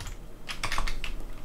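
Quick, light tapping of keys on a computer keyboard while entering a command on a Raspberry Pi, a short burst of close, crisp clicks with no talking.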